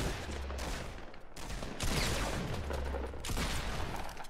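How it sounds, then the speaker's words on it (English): Shotgun fire in the Fortnite battle royale video game, a dense, continuous barrage of loud overlapping blasts and rumbling impacts at close range, with several brief dips between volleys. "I'm getting shot at from a shotgun"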